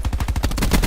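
Rapid bursts of automatic gunfire in a video game gunfight, a loud, steady stream of close shots with a fast, even rhythm and no voices over it.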